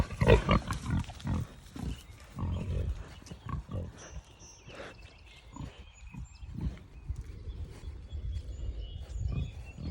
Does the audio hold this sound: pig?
yes